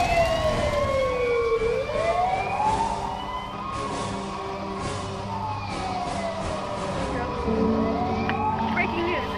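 Wailing emergency sirens sweep up and down, several overlapping, with traffic rumble beneath and a voice talking over them.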